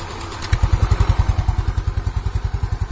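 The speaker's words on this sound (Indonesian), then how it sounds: "Alhamdulillah suara mesin lumayan halus." A Yamaha Mio motorcycle engine idles smoothly after a smoking fault was repaired, giving a steady, even chain of low thumping pulses close up, starting after a brief quiet moment and running on alone.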